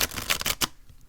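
A tarot card deck being shuffled by hand: a quick run of crisp, riffling card flutters for about half a second, then the sound stops into near-quiet.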